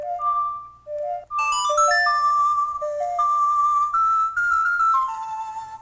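Song of Storms from Zelda plays on an online ocarina, a pure whistle-like tone stepping through the short looping melody, clear and alone at a steady volume.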